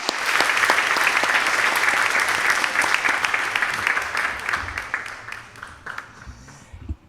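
Church congregation at a Sunday afternoon service clapping after a prayer, loud sustained applause that gradually thins and fades toward the end.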